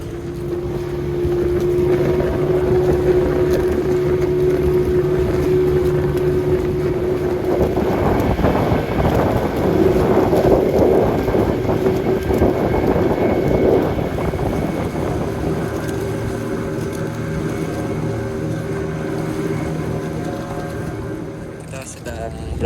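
A motorboat engine drones steadily on the open sea during a dolphin-watching trip, its constant hum mixed with wind buffeting the microphone, with voices faintly present throughout.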